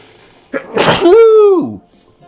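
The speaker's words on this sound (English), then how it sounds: "I cannot stop sneezing." A single loud, close sneeze: a sharp breathy burst followed by a drawn-out voiced tail, alone in a quiet room.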